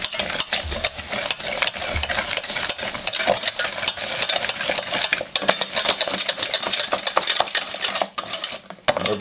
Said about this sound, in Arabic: ندير السكر ونديرو البيض، غادي نخلطو الجميع تخليطه مزيانه